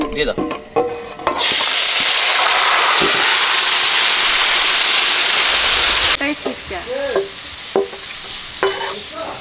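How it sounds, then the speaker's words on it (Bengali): Titir bird meat hits hot mustard oil with a loud, steady sizzle that fills the middle of the clip, with stirring clatter and a voice talking before and after. "সরিষার তেল দিয়ে দিচ্ছি তেল গরম হয়ে গেছে কেন মাংসটা দিয়ে দিচ্ছি"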